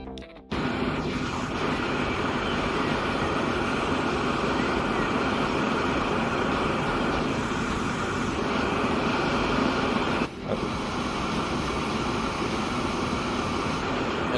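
A train ride in the video game Transport Fever produces a continuous rolling rumble and hiss, loud and even throughout, with a brief dip partway through.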